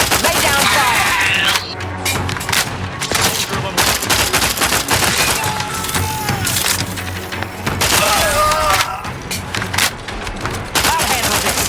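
Sustained automatic gunfire and splintering impacts during combat in The Outer Worlds 2, continuous rattling volleys with brief dips, voices faintly in the mix.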